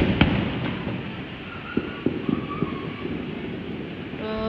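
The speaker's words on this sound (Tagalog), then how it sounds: "Maganda siya na fireworks." Chinese New Year fireworks going off at a distance, scattered sharp pops and bangs over a low rumbling background, faint and irregular with no voices.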